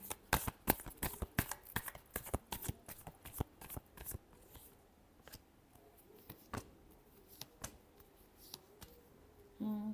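Tarot cards are shuffled by hand close up: a quick run of crisp riffling clicks, then sparser single snaps and taps in a quiet room, with no voices.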